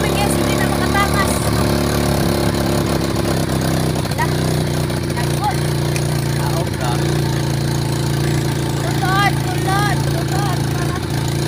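A motorcycle engine runs steadily up close on a mountain outing, a constant droning rumble under people talking over it throughout.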